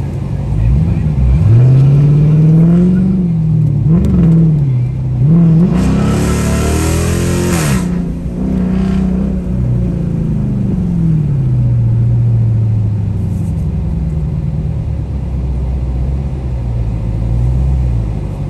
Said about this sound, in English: we gonna get in the car and take off like the other cars